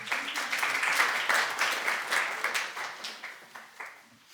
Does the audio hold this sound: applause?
yes